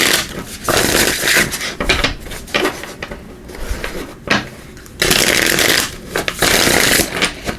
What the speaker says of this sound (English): Let's give it a couple shuffles here.